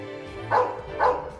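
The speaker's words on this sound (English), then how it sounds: "our stupid neighbor's dog barks 24/7" A cartoon dog, the neighbor's dog in Family Guy, barks twice in quick succession, the barks standing out from a steady background of music or ambience.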